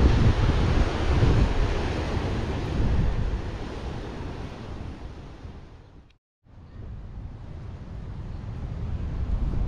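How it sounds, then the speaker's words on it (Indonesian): Strong wind buffeting the microphone at Jetis beach, a loud continuous rumbling roar mixed with surf, broken by one brief lull before gusting again. "Aduh, anginnya gede banget di sini."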